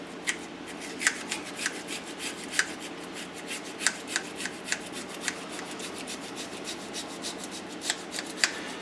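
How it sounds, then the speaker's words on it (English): A knife minces garlic cloves on a board in a quick, quiet run of crisp taps and scrapes, mostly steady with a few sharper strikes standing out. "So there we have 3 minced garlic blooms."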